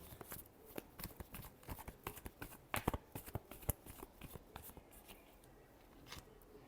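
Tarot cards are shuffled close up in a run of quick papery riffles and flicks, with sharper snaps near the middle, quiet and alone with no talk.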